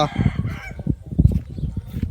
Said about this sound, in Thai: ไก่ขันพ่อไก่ครับ